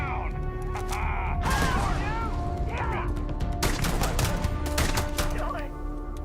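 Gunfire in Starfield, sharp rapid shot bursts in several clusters at close range, with voices talking between and over the volleys.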